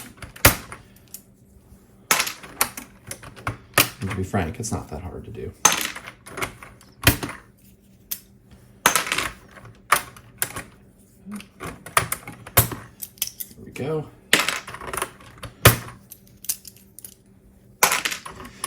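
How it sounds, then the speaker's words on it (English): Keys of an Atari 1040 STe keyboard rattle and clack in bursts as they are cleaned, with sharp plastic clicks and a few louder knocks, close up, while someone briefly talks between them. "there's something always fun about just getting down and cleaning up a keyboard"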